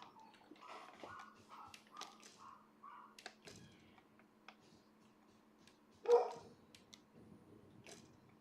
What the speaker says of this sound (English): My neighbor's puppy's freaking my dog out again.